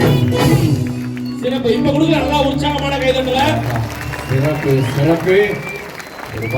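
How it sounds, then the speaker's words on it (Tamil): Applause from an audience at a village folk arts performance by a Tamil folk troupe at a book fair in Theni, the clapping mixed under a loud voice or singing that dominates most of the stretch. "ஒரு பலத்த கைத்தட்டல் எல்லாருமே கொடுத்திருக்கிறீங்க"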